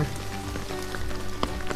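Steady rain falls during a solo mountain hike in Lembah Ramma, a dense, continuous patter on surfaces nearby with occasional louder drops standing out.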